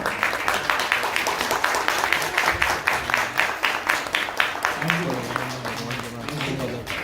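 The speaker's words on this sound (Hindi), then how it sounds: "एक बार जोरदार तालियों से स्वागत करिएगा आगे के साथी प्रदीप गुप्ता" Audience applause at a folk festival drama performance, welcoming young performers: a loud wash of clapping that thins toward the end as a voice begins talking over it.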